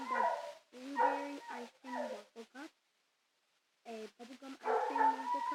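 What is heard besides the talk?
dog barking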